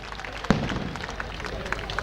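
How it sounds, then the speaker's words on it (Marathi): A crowd at a Sangli mandal event claps, a faint, distant patter of applause mixed with murmuring and other noise. "एकदा जोरदार टाळ्या विजयंत मंडळ सांगली यांच्यासाठी"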